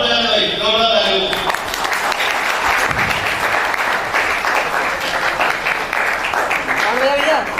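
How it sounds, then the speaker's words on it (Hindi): A seminar audience breaks into loud, sustained applause, the dense clapping continuing for several seconds, while a voice is heard speaking at the start. "आप बजाना भाई, जोरदार ताली"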